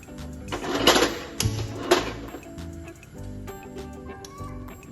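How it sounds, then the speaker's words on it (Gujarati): A kitchen gas stove burner is turned on, giving a few sharp mechanical igniter clicks close by, followed by softer ticking and light background noise. "હવે આપણે ગેસ ચાલુ કરી દઈશું."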